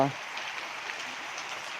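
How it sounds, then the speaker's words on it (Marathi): Steady rain falls outdoors on a farm, a continuous soft broadband patter with no breaks, fairly faint and even throughout. "कसा पाऊस चालू आहे बघा"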